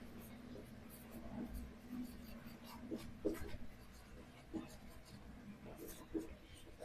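A pen scratches out equations for Gauss's theorem in short, soft strokes, faint and close, while a teacher speaks quietly over the writing.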